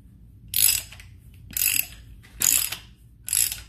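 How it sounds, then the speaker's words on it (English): Engine stud being run in with a stud installer on a Graham supercharged engine overhaul, heard as four separate bursts of ratchet clicking at a steady pace, close and fairly quiet, with no talking. "we'll just go around and we'll install our stud"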